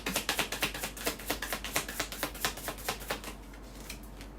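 Tarot cards are shuffled in a quick, steady run of crisp flicking taps that fade out over several seconds, close and fairly quiet.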